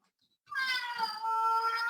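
A cat lets out one long, loud, drawn-out meow close by, rising and holding steady for over a second after a brief silence.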